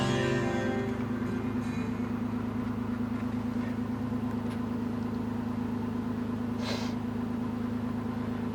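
Mitsubishi Shogun engine running on LPG, a steady, even idle with a low humming drone throughout, close and continuous, with a faint brief hiss partway through.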